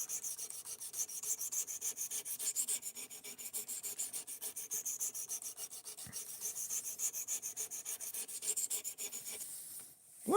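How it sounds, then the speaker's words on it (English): A D2 steel folding knife blade with a drop point and full flat grind is drawn repeatedly across a sharpening stone, giving a steady, close rhythmic rasping of even strokes that stops near the end. "We're not too far away from finishing the sharpening."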